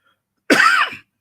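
A single short, raspy cough, close and fairly loud, after a moment of silence.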